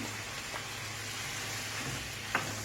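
Liver fries in butter sauce with sweet and hot peppers, a steady, close sizzle with a couple of faint stirring scrapes and no talking.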